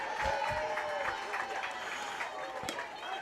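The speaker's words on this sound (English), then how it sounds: "A lot of clapping from another field." Distant, sustained clapping rises from a neighbouring field at a college softball game, heard under nearby talk.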